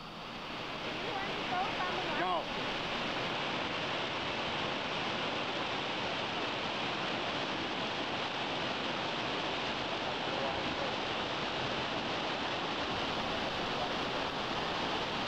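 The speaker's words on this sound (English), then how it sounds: "This is a stream that feeds into the river at the end of West Street." A vigorous stream swollen by heavy rain, feeding into a river at the end of West Street in Yangshuo, China, gives a steady, dense rush of water for the whole stretch with no let-up.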